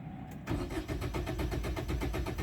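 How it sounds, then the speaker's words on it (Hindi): A car engine with a damaged smart key cranks steadily without catching: a close, loud, rhythmic churning of the starter that runs on for about two seconds after a brief quiet start, with no voices. "इंजन क्रैंक करेगी बट स्टार्ट नहीं होगी।"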